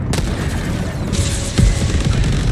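A grenade goes off in the video game Helldivers 2 amid continuous battle noise: a loud low boom with a crashing burst, followed by rumbling explosions and gunfire-like clatter throughout.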